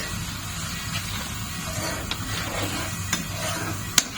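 Salt and turmeric stirred into pea dal cooking in a pan: a gentle continuous simmering sizzle with soft scraping stirs and a few light utensil clicks on the pot, close and fairly quiet.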